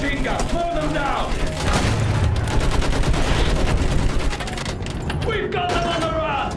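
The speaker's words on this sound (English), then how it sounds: "Use that machine gun! Slow them down!" Rapid machine gun bursts and explosions in the World War I shooter Battlefield 1, a dense, loud barrage under shouted in-game voices.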